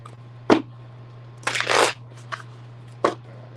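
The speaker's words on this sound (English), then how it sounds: "let me get quick shuffles in real quick" Tarot cards are shuffled in a few quick, separate bursts, crisp riffling and slapping close by, set against a low steady hum with no talk.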